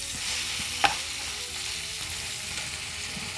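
Ingredients sauté in a pan with a steady close sizzle and frying hiss, broken once by a sharp clink of a utensil against the pan.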